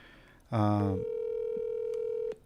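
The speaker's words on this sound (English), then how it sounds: "Let me make this phone call, guys." A telephone call being placed: a short burst of dialing or ringback tones, then a steady single tone held for about two seconds before cutting off, clear and alone with no talk.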